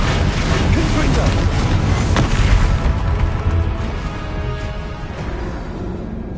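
A blasting spell bursts in Hogwarts Legacy, a loud booming explosion whose roar fills the opening seconds, peaks sharply, then decays into a lingering rumble.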